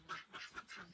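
Ducks quack in a repeated series of four bursts on a sunny day, fairly close and clear with no talk over them.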